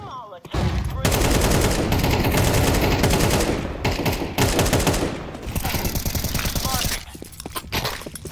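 A flashbang and a Molotov are thrown on the Inferno map in the Counter-Strike video game among dense, loud rapid gunfire and bursts that run almost continuously, with short pauses and crackling near the end.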